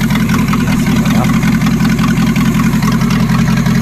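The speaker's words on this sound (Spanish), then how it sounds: "estoy tapando la boca del carburador para ver cómo reacciona. Y bueno, lo voy acelerando" A Renault 18 with a 2.0 engine runs steadily close by, its carburetor mouth covered, giving a loud, continuous low throb with a hint of roughness and no obvious surges.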